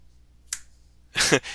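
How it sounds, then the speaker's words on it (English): A single sharp finger snap during a sleight-of-hand card trick, a brief crisp crack followed a moment later by a louder burst of sound. "you gotta finger snap, otherwise they won't separate"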